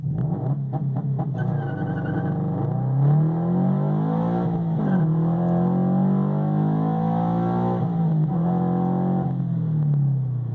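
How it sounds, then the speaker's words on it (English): Car with EcuTek RaceRom launch control pulling away hard from a standstill in first gear, a loud engine note rising steeply in pitch with brief stutters and rev dips, then climbing again as it accelerates. "Coming to a complete stop with the brake, clutch, 1st gear, and launch."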